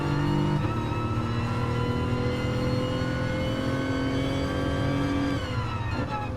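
A race car engine in Gran Turismo Sport, driven with a controller, revs hard and holds a rising whine in second gear. Near the end the pitch drops sharply at a gear change, and no one speaks.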